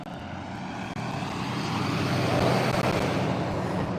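Motor vehicles rolling toward a ferry landing in Currituck, North Carolina, a steady broadband engine and road rumble that builds and holds, fairly close, with no voices.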